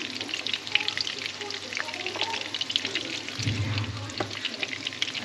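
Freshly caught fish sizzle steadily in a hot frying pan at a creekside spot, a close, continuous crackling frying sound with a brief low rumble partway through and no talk.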